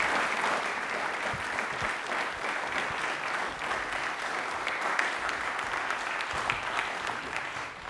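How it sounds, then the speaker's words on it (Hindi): Studio audience at a Rajasthan television general knowledge quiz show applauds steadily and loudly for the full stretch, a dense even wash of clapping with no talk over it. "एक बार तालियां हो जाए डॉक्टर प्रफुल्ल के लिए"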